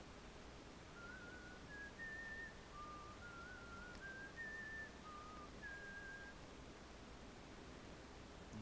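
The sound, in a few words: nobles whistling and humming in Thief 2 video game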